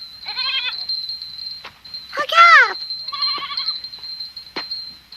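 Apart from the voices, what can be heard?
goats bleating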